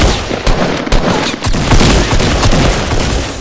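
Rapid gunfire in the Fortnite battle royale video game, loud dense bursts of shots and impacts that crowd together over a few seconds.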